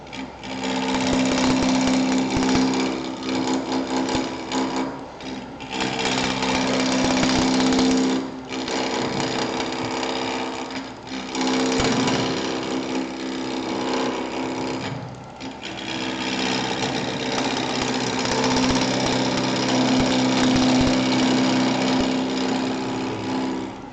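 A wooden bowl spins on a lathe while a 5/8 bowl gouge cuts it, giving a loud, steady whirring grind in long continuous passes broken by brief pauses, with no voices.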